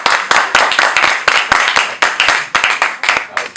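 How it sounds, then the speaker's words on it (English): A small group claps unevenly at a school vocal ensemble performance, the distinct individual hand claps coming through as a sparse, near, patterned patter that carries on steadily and never swells into a full roar. "Give them a round of applause."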